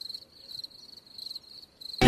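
Crickets chirp as a sound effect inside a rap track: a steady, high, pulsing trill that stays faint and continuous with no voice over it, then cuts off in a sharp loud burst at the very end.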